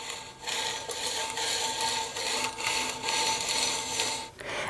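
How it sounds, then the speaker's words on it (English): A skew chisel's bevel grinds against a sharpening wheel turned by hand, a continuous close rasping scrape that surges and eases slightly with each turn of the wheel. "And next we lay the bevel onto the sharpening wheel. Next we turn the wheel by hand."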